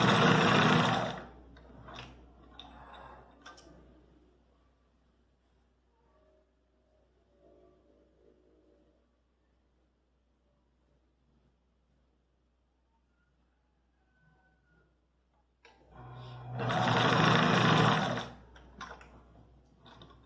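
A sewing machine runs a simple seam along a pinned trouser waistband, with a loud buzzing burst at the start, a long quiet stretch with faint handling, then a second sustained burst of stitching near the end.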